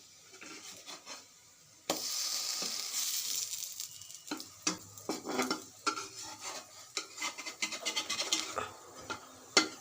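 A flipped pancake fries in a pan: quiet at first, then a sudden steady sizzle followed by repeated close clinks and scrapes of a utensil against the pan.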